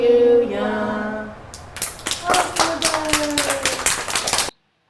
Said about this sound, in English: we just have clapping at the end of the song